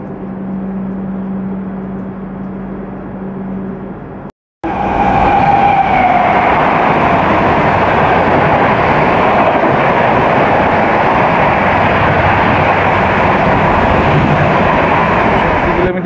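The Puri to Howrah Shatabdi Express (train 12278) is heard from inside while running. After a brief cut, a loud, steady rumble and rattle of wheels and carriage continues unbroken, with faint voices underneath.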